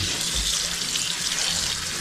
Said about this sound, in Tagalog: babaran muna natin ng tubig to.